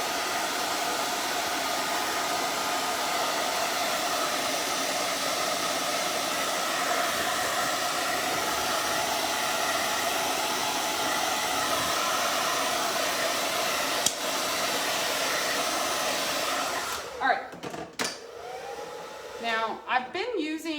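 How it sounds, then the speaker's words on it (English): A hair dryer blows steadily on wet paint on a yard-art gnome, a loud continuous whooshing hum that holds unchanged for most of the time before cutting off near the end. "I might need to pull that blow dryer out just for maybe like, I don't know, 30 seconds"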